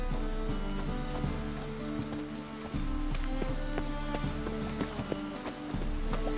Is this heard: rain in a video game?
yes